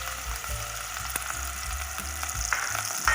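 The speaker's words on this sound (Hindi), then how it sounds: "हमने जो कद्दू बॉईल किए थे ये हम इसमें ऐड करें।" Boiled bottle gourd frying in a pan, a dense, steady crackling sizzle with soft low stirring thumps underneath, close and without talk.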